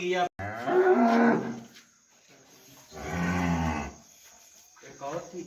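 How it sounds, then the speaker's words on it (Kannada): Cattle at a dairy farm give two long, loud moos close by, separated by a quiet pause, with a fainter third call starting at the end. "ನೋಡಿ ಸ್ನೇಹಿತರೆ ಎಲ್ಲ ಹಸುಗಳು ಪಂಜಾಬಿಂದ ಬಂದು ಇಳಿದಿದ್ದಾವೆ ಮೈಸೂರು ಫಾರಮಿಗೆ"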